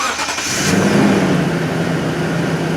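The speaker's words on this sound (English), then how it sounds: "I'm going to turn this one on. We're going to take a listen to how the exhaust sounds." A 2013 Toyota Sequoia Platinum SUV engine fires up and settles into a steady, fairly quiet idle with a low exhaust hum, heard close and without talk.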